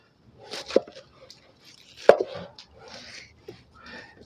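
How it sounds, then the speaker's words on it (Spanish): Knife chopping pineapple into cubes on a board, a few sparse, sharp cutting knocks with one louder chop, close and otherwise quiet. "ahora el acto que sigue es cortar nuestra piña"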